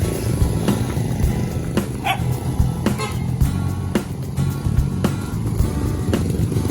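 A dog barks repeatedly at a steady pace, somewhat distant, over low background rumble from traffic or engines.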